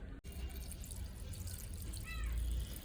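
Water poured over fish in a home kitchen to soak it, giving a faint, steady, low trickling wash with a brief gurgle near the end.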